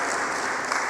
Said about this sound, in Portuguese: Uma salva de palmas a Deus pela vida do nosso pessoal aí.